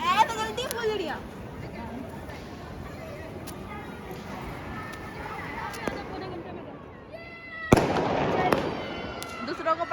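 Firecrackers burst during a Diwali celebration, sharp cracks scattered over a crowded, noisy scene, with a louder close burst near the end, all under ongoing chatter and voices of people talking.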